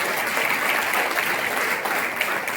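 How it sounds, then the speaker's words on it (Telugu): A youth meeting audience at a church gathering claps loudly together, a dense, steady wash of applause that holds evenly from start to finish with no voices on top. "గట్టిగా చప్పట్లు కొట్టండి ఒకసారి"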